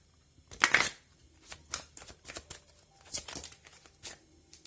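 Tarot cards are shuffled close by in a quiet room, a loud riffling burst followed by several softer, irregular slaps and flicks of the cards.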